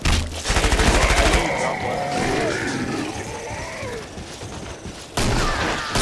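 Gunfire rattles in the game Killing Floor, a rapid burst of close, loud shots at the start and another burst near the end, with grunts and game noises in between.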